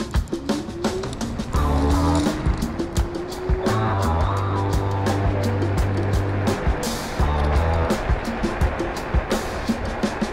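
A Halten F1 electric scooter with a 500 W motor rides at speed, with rumbling wheel and wind noise, a rising motor whine and frequent bumps, all continuous and close.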